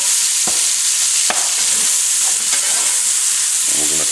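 Chopped onions frying in a pan on a stovetop, a steady bright sizzle throughout with occasional stirring scrapes and clicks, close and fairly loud, no talk.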